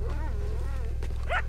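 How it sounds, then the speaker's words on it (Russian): A dog barks and yips in Red Dead Redemption II, a short burst of excited, wavering barks over a low rumbling game background, fairly close. "Собака, заткнись, не пали меня."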